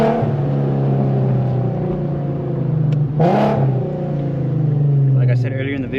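A tuned Infiniti Q50's engine and exhaust at night, revving up and dropping through aggressive downshifts with a brief sharp burst near the middle, loud and close from inside the car, with someone talking over it.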